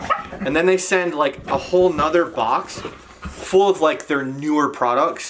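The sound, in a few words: dogs barking in the background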